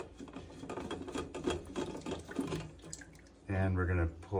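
Water drains and trickles out of an Earthship water filter housing as it is loosened, a steady wet splashing with rattling handling noises, then a louder rushing gush near the end.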